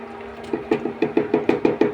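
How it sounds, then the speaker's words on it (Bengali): Spoon stirring rice, lentils and water together in a cooking pot for egg khichuri, a steady series of about ten evenly spaced soft scraping knocks, close and moderately loud with no talk. "তারপর আমি নেড়ে চেড়ে সবগুলো ইনগ্রেডিয়েন্টস একদম ভালো মতো মিশিয়ে দিচ্ছি"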